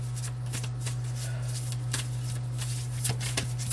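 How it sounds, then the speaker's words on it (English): A deck of tarot cards being shuffled continuously, a steady rapid riffling and flicking of card stock up close, over a constant low electrical hum. "I'm still shuffling the same deck of cards"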